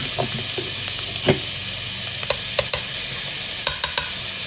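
Garlic is stirred into pepper steak sizzling in a pan, with continuous frying hiss broken by several sharp spoon scrapes and clicks against the pan.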